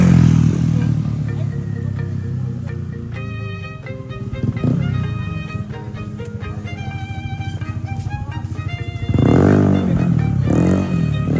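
A loud modified Yamaha Aerox scooter engine idles and revs with a harsh, buzzing exhaust, surging louder near the end.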